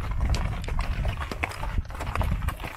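Horses walking on a Nevada cattle ranch, their hooves clip-clopping in a steady, uneven rhythm, close and fairly loud, with low rumbling movement underneath.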